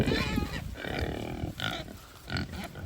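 Pigs and goats in a muddy pen give short low grunts and rough bleating calls in quick bursts, close by and fairly quiet, with brief gaps between them.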